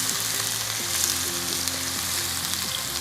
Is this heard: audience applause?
no